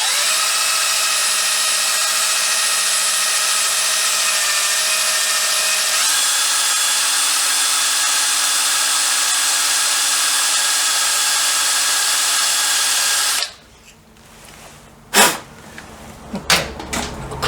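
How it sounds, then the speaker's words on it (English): Bench grinder in a motorcycle workshop spinning down after switch-off, a steady loud whine with a slight pitch drop partway through, then cutting off abruptly, followed by a few sharp clatters and knocks. "That you can hear in the background is the grinder running down."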